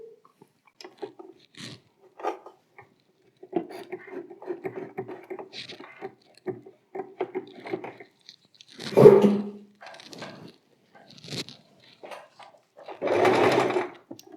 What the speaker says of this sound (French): Et voilà, on passe à la machine.